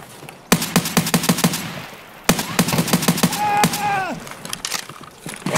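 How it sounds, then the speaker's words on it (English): Gunfire rings out in Escape from Tarkov: two loud bursts of rapid automatic shots with sharp cracks and echoing tails, close and dominant, and a voice talks briefly between them. "Who's shooting you?"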